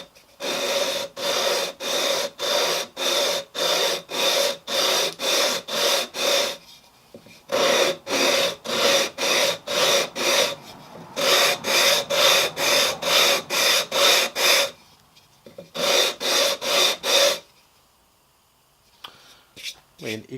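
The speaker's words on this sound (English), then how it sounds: "put some sticky sandpaper on there and" Sticky sandpaper worked by hand across a wooden hexagonal jewelry box, its routed surface giving close, rhythmic back-and-forth rasping strokes in quick bursts separated by short pauses, with no talking.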